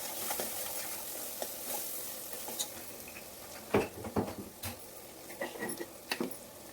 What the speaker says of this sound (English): 2 spoons of coriander powder and a quarter spoon of cumin powder to it and fry well until they are aromatic. Fry on low flame only.